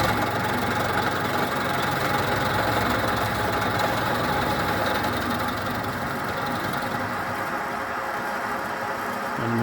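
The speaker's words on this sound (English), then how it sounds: "what we're going to do is machine in little bites at a time until we're right at our line" A milling machine takes small cuts on a steel hammer head in a home workshop, giving a steady, dense mechanical whir and grind that runs continuously at even loudness with no talk.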